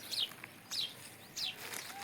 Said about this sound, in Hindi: ये मेरे को चिड़ियों की आवाज़ बहुत अच्छी लगती है।